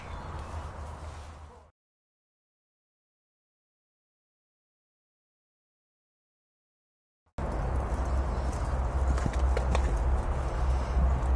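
Rhythmic hoofbeats of a horse thud at a steady canter pace during a riding club style jumping session, briefly heard, then a stretch of silence before the beat resumes strongly.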